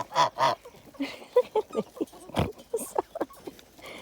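Guinea fowl call out in loud, repeated honking squawks with bursts of wing flapping nearby on a free-range farm, one short human voice mixed in.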